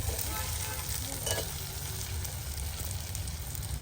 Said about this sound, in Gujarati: હવે પાંચેક મિનિટ સુધી આને સતડાવવા દઈએ